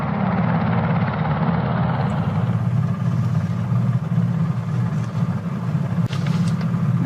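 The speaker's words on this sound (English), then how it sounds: "Y'all, a helicopter just landed right there." Loud, steady helicopter rotor thumping and engine roar close by, continuous throughout with no voices.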